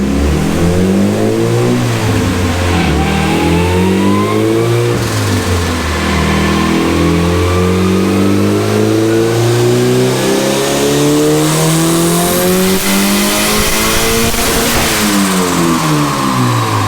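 A turbocharged Honda Integra with its turbo intake filter removed revs hard on a dyno, its loud, close engine note sweeping up and down through repeated pulls with a steady roar underneath.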